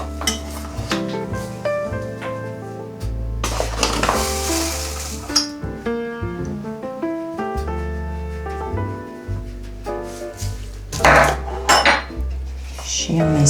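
Cozonac mixture with sugar being stirred in a bowl, with repeated clinks and scrapes of a utensil against the bowl in an irregular rhythm, close up, and music playing throughout.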